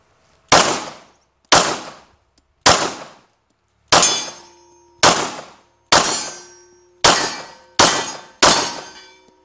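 Nine sharp pistol shots crack out at an outdoor shooting range, spaced roughly a second apart with brief pauses between some, each loud and close with a short ringing decay.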